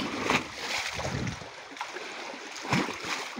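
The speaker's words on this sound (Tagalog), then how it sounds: "ayan, humahampas-hampas yung tubig." Sea water washing and splashing against a beach shoreline, a steady wash of surf with a couple of louder splashes, fairly close, with no talking.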